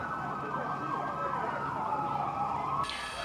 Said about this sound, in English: there's a bunch of sirens